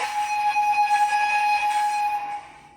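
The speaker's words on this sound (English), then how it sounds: "if I just take the short whistle, long whistle," A Roco model locomotive's sound decoder, at maximum volume, sounds a loud, steady, high-pitched whistle for about two seconds, then it fades away. No one talks.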